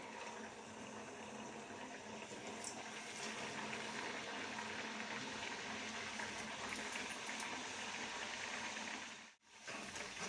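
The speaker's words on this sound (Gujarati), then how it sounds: "હવે આપણું તેલ થઈ ગયું છે હવે આપણે એને તરી લઈએ" Kachori frying in hot oil in a kadai, a steady dense sizzle and bubbling that holds evenly throughout, close and fairly loud, with a brief dip near the end.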